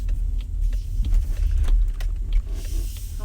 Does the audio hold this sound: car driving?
yes